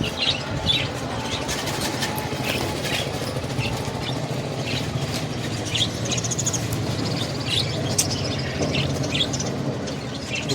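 Pigeons at Sarenga pigeon market in Howrah make scattered chirps and calls over a dense, steady bed of outdoor market noise, with occasional rustling flutters close by.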